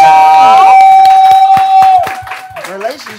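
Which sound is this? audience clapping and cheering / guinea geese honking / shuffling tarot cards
audience clapping and cheering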